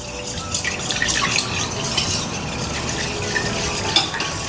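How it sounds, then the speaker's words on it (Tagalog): A creamer mixture for strawberry milk is stirred steadily in a container, with continuous liquid swishing and light scraping that stays close and even throughout, without any talking. "So, i-mix natin ito na mabuti."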